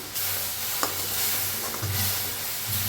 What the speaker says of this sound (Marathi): आता एकदम मिक्स करून घेऊया